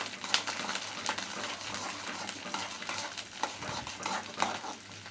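Garlic cloves sautéing in a pan for mint chutney, a soft, steady sizzle broken by repeated spatula scrapes and light metallic taps, close and fairly quiet, with no one speaking.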